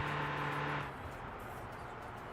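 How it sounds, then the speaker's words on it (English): A car engine hums and whirs at a steady pitch, then drops to a lower rumble partway through, with no voices. "I really do not enjoy the way the cars sound"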